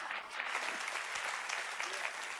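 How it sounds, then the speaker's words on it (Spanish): A church audience breaks into dense, continuous applause during a Spanish-language sermon, a steady wash of many hands clapping without pause, moderately loud and even throughout. "aplaudan una vez más"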